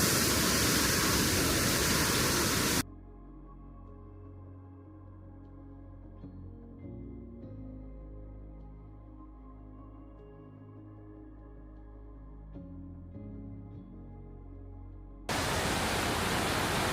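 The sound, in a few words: waterfall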